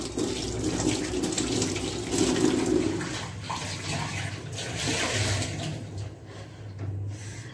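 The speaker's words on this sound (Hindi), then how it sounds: "तो मैं कढ़ाई धो ली हूँ" A kadhai is washed under a running kitchen tap, with a steady hiss of flowing water and some splashing and clanking of the pan throughout.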